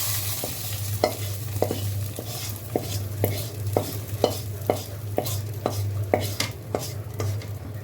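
Khichuri with beef being stirred in a pot on the stove, a low steady hum with evenly spaced scraping clinks of a spoon against the pot over a soft simmering sizzle.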